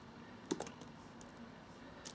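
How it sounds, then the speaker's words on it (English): Quiet typing on a computer keyboard, a few soft, scattered key clicks over a low background hum. "From there you're going to want to type in IW"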